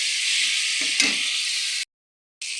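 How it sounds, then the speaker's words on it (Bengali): Tomatoes frying in a pan for dum aloo give a steady, bright hiss of sizzling oil with a soft stir or clatter near the middle. The hiss cuts out briefly, then resumes. "এবার দিয়ে দেবো টমাটার। ভালো করে এটা ভেজে নেবো বন্ধুরা।"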